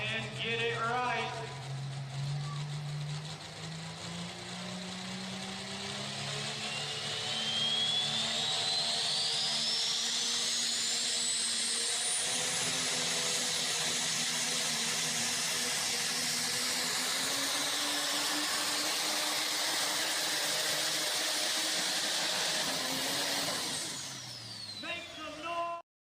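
Triple-turbocharged diesel truck pulling, two turbos feeding a bottom charger, a loud sustained roar with a rising turbo whistle that climbs and holds high before dropping off at the end, with a commentator talking over it.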